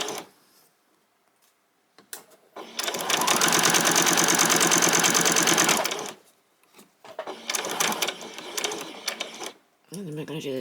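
A sewing machine stitches a seam on a pair of ruffled-bottom shorts in loud bursts, a long steady run followed by a shorter one, with quick stops and a few back-stitches between them; a voice speaks briefly at the end.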